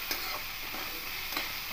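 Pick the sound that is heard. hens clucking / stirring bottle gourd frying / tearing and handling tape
stirring bottle gourd frying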